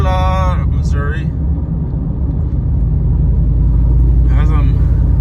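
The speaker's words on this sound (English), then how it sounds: "As I'm driving through these country roads" A car driving along country roads near Arcola, Missouri makes a steady low rumble and road noise throughout, with someone talking over it at the start and again near the end.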